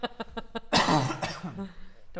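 A burst of harsh coughing follows a few short throat-clearing hacks, loud and close, then trails off into rough breathing.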